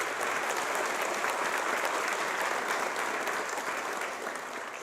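Audience applause at the 2024 Verkmenntaskóli Austurlands graduation ceremony, a dense, even clapping from a large crowd that holds steady for several seconds and then begins to thin toward the end.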